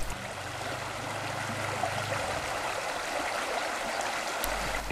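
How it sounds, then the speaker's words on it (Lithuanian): Steady, soft rush of flowing water, a gentle murmuring stream heard outdoors with no voices over it. "Yra šiša, kurios vandens čiurlenimo galima pasiklausyti."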